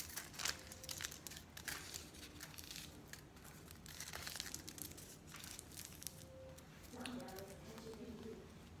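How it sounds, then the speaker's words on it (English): Crinkling and rustling of material being folded for a homemade lemon battery, close and continuous, with a louder crumpling burst near the end. "so then we'll fold these"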